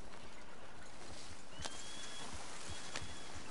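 Horse hooves clip-clopping in Red Dead Redemption 2, soft rhythmic footfalls at a distance under steady ambient game noise, with a couple of sharper thuds near the end.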